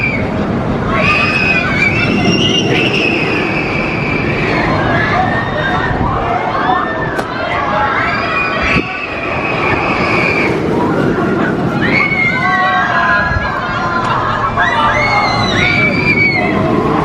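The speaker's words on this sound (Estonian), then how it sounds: "Kohe kuulete, kuidas nad karjuvad ja röögivad ja on nii rõõmsad" Riders on an amusement park ride at Linnanmäki scream and shriek in repeated high, loud bursts over a constant din of crowd noise and machinery, while someone talks nearby.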